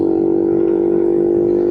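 Boom Vader 125cc motorcycle fitted with a Nibbi carburetor, a loud steady engine drone held at constant revs while riding, close and continuous.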